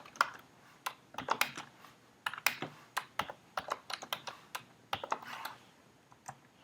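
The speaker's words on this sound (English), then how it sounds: "I didn't even finish typing." Bursts of typing on a computer keyboard while writing a shell script, sharp close key clicks in uneven clusters separated by short pauses, with no talking.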